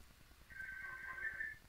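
A phone rings with an incoming call, a soft electronic ringtone tone lasting about a second over a low rhythmic background hum.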